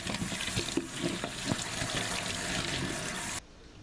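White bissap hibiscus flowers are washed under running tap water, a close, steady splashing stream with small bursts of handling that stops abruptly just before the end.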